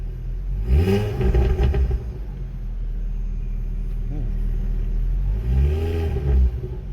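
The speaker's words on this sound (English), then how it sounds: "Right, give it a little rev." A Ford Focus ST Mk2 with a Ramair high-flow induction air filter idles nearby, then is revved twice, each short blip rising and falling sharply, with someone talking briefly between the revs.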